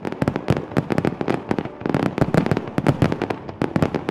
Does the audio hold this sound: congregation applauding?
no